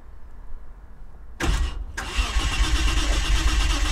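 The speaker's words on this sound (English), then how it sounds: "Do you want me to crank it or not?" A car engine cranks and catches on an old Japanese car being rescued despite a faulty fuel pump, a sudden loud churn that briefly drops out, then settles into a steady rough running roar, close and without speech.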